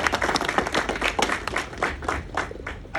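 At a mayoral campaign kickoff speech in Oakland, a room of people claps in a brisk, uneven burst of applause that lasts about three seconds.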